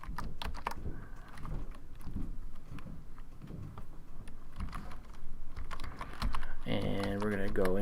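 Keys clatter in quick irregular bursts as a terminal command is typed on a computer keyboard, with someone talking over the clicks and a brief voice-like tone near the end.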